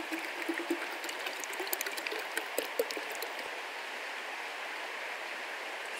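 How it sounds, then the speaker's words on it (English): Water pours steadily from a container into a Gatorade bottle outdoors on a summer hike, a continuous hissing trickle with a few faint clicks and splashes, close and unbroken, with no voices. "I'm just going to dilute this Gatorade with a little bit of water."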